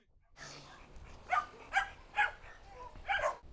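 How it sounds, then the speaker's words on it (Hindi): A guard dog barks four times in an evenly spaced series, each bark sharp and moderately close, with quiet background between the barks. "वो कभी सोता भी नहीं है, ठीक है, लगातार भौंकता रहता है।"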